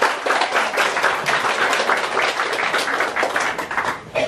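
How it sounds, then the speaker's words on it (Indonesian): Dense, continuous clapping from a congregation at a thanksgiving worship gathering in a home, loud and close, many hands blending into an even roar that holds steady for about four seconds. "Mari kita tepuk tangan."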